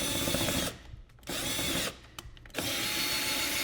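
Power drill with a 3/16 bit boring out a rivet on a front license plate holder of a 2012–2018 Ford Focus, whining loudly and steadily in three bursts separated by short pauses.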